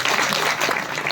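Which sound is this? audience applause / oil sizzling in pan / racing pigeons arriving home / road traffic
audience applause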